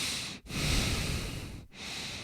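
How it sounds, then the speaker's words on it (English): Heavy breathing close to an ungated microphone, two long noisy breaths with brief pauses between inhale and exhale. "All right, I'm breathing"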